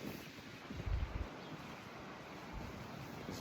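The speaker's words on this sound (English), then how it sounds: "It's very windy today." Strong wind gusts buffet the microphone in a low, rumbling roar, with one heavier blast about a second in, then settle into a steady outdoor rush.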